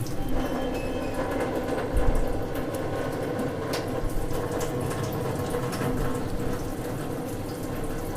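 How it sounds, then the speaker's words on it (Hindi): Water runs steadily from the tap of a newly installed RO water purifier in a kitchen, a constant close splashing flow without pause. "थोड़ी देर चलने देना है, ये देखिएगा थोड़ी देर चल रहा, अभी पानी क्लियर आने लगा है"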